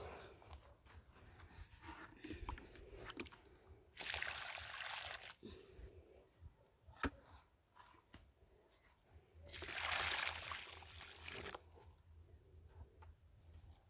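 Water poured onto freshly planted zucchini seedlings in open garden soil, heard as two broad splashing bursts a few seconds apart over quiet background with faint movement.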